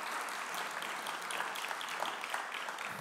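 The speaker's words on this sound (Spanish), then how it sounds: "Démosle un fuerte aplauso al Señor" Congregation applauding in a church service after a sermon, a steady dense clapping that fills the whole stretch at even loudness, with no voices standing out.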